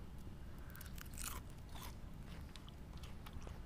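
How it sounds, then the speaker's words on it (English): Close crunching of someone biting and chewing crisp shoestring fries, steakhouse frites style, with several brittle crackling bites over a low background hum and no talking. "See if you guys can just hear the crunch."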